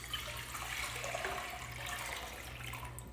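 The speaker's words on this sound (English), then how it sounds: "take about 4 1/4 cups of water and pour it in the pan" About four cups of water pour into a pan for a hot kosher dill pickle brine, a faint, steady splashing stream over a low background hum, with no voices.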